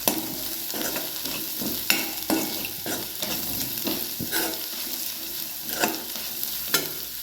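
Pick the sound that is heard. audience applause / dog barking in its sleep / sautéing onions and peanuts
sautéing onions and peanuts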